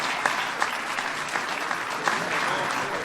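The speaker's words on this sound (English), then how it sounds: "They deserve a big round of applause" An audience gives legislators a round of applause at a program ceremony, a steady, moderately loud wash of many hands clapping with a few sharper claps standing out, without talk.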